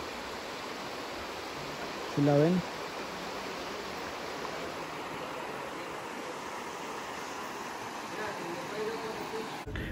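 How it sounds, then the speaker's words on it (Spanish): A river in Mexico, large enough for bathing, runs below the hills with a steady broadband rush that continues throughout. A voice briefly speaks over it near the start. "Ahí está el río."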